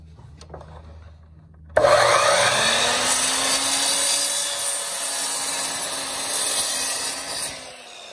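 A piece of wood for model railroad benchwork is cut with a saw: a loud, steady grinding whine starts abruptly after a quiet moment, runs for about six seconds, then stops.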